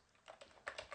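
Faint, quick keystrokes on a computer keyboard as a terminal command is typed, a short irregular run of soft clicks with no voices.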